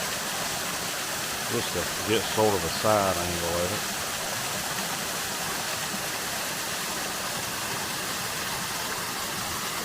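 A waterfall along the Rhododendron Trail in Mount Airy, Georgia pours steadily into a pool below, a loud continuous rushing hiss that runs the whole time while someone speaks briefly over it.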